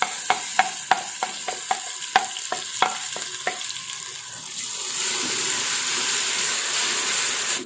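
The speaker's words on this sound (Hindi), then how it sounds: "अब इसको 5 मिनट के लिए हम भूनेंगे।" Tomato cooking in masala with garlic and green chilli for dhaba-style moong dal tadka; a string of sharp spoon taps and scrapes against the pan gives way to a loud, steady hiss of frying.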